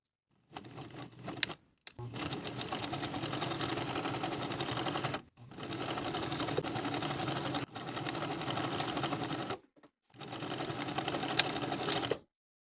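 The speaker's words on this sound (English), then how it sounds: "Sew the collar stand to the neckline from the released seam allowance on one side of the neckline straight across to the other with a 3/8 inch seam allowance" A sewing machine stitches a collar stand to a blouse neckline, running in four steady bursts separated by brief pauses, close and fairly quiet with no voices.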